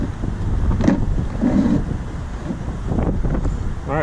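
Gusty wind buffets the microphone in loud, rumbling bursts outdoors at an RC car jumping session, with faint voices and other noises underneath.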